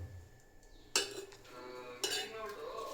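A spoon scoops cooked rice onto a plate with two distinct clinks of metal on dishware, each followed by soft scraping, close and fairly quiet.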